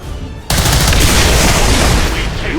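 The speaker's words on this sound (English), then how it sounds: "Let's start shooting again." Loud gunfire erupts in XCOM 2: War of the Chosen, starting abruptly after a brief quieter moment and holding as a dense, sustained barrage of shots and blasts for about two seconds.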